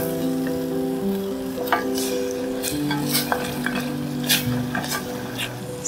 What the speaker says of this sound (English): Stir constantly.